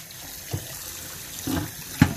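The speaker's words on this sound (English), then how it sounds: "Got some hot water running." Hot tap water runs over a still-hot Lodge cast iron cornstick pan, a soft steady flow broken by a few brief splashes and clanks up close.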